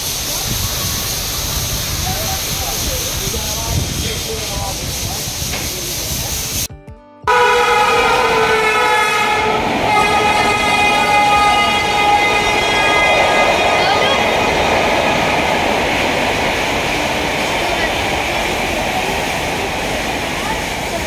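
A railway station platform carries a busy wash of crowd and ambient noise. After a brief dropout, a long, sustained train horn sounds loudly over the background.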